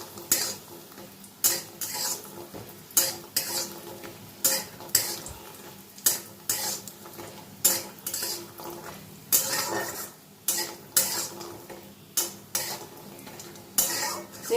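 Lentil dumplings fry in hot mustard oil as a spoon scrapes and clanks repeatedly in a rhythmic stirring pattern against the pan, with a steady sizzle underneath, close and prominent.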